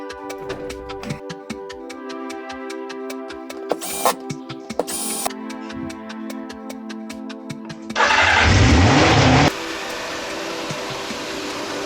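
The engine of a very rough, neglected Suzuki Katana motorcycle runs at a steady, throbbing idle, then rises through a couple of sharp blips. A loud burst of revving follows before it settles again, all close and with no voices.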